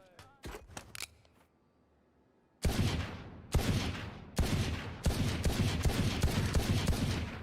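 Pistol shots in the video game Valorant: a few sharp separate cracks at first, then a string of heavy loud shots fired in quick succession, close and dominant.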